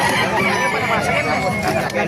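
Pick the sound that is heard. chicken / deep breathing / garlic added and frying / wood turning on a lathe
chicken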